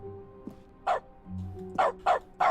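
A dog in the game The Stanley Parable: Ultra Deluxe barks in short bursts: one isolated bark, then a quick run of three loud barks near the end, with faint low tones underneath.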